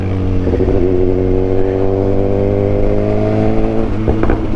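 A nearby BMW S1000XR inline-four motorcycle with a full Akrapovič shorty exhaust system runs with a smooth, steady exhaust drone, then blips its throttle in a couple of quick revs at the end.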